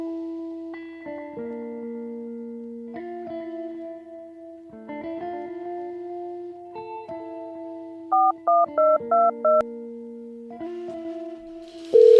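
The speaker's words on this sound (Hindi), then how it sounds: "राखी बहन का फोन" A ringing phone call tone plays as a repeating electronic melody with steady held notes, then a quick run of short beeps, loud and close with no voices.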